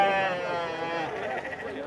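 A goat at a livestock market in Campina Grande, Brazil, gives a single wavering bleat, close and fairly loud, trailing off over about two seconds.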